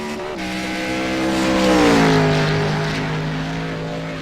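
Race cars roar along a track in a late-race oval event, one engine swelling loud as it passes close by, its pitch dropping as it moves away, with other motors droning steadily underneath.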